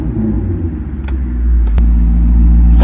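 Maserati GranCabrio MC engine revving up, a loud, close, deep rumble that swells and holds at higher revs, with a couple of faint clicks along the way.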